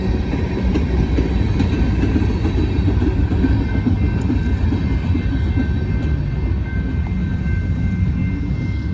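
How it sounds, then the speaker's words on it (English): A long freight train rolling past as its last cars go by, working uphill while sanding the rails, a dense steady rumble and rattle of wheels on track, close and continuous without talk. "All right, here's the end of the train."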